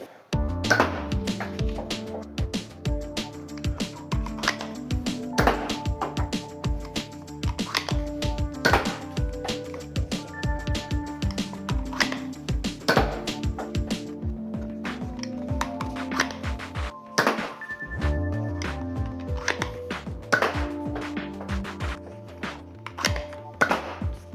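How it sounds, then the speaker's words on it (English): A Nerf N-Series Flex blaster fires darts at a target, giving a string of sharp, close clicks and thunks with short irregular gaps, like loading and firing over and over, and no voices. "let's go fire it now. So I'll shoot at the target"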